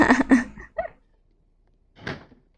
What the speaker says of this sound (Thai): ปิดประตูตู้เย็นดังปึ้งเลย